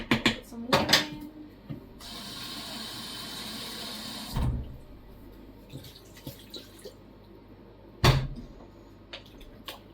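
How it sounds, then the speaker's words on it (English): Water poured into a pot at home for slow cooked beef, a steady hiss of a few seconds between clunks of the pot and clatter, fairly close with no voices. "Put some water in."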